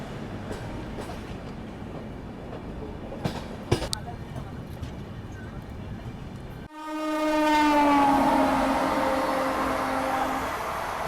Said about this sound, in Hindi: अब ये पता नहीं कौन सी ट्रेन है, कोई इंटरसिटी ट्रेन लग रही है मुझे तो ये